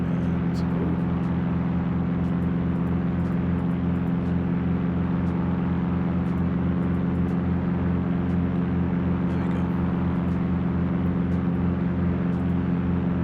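A steady, loud engine drone from an aircraft climbing after takeoff in the X-Plane 11 flight simulator, with a constant pulsing hum and no change over the whole stretch.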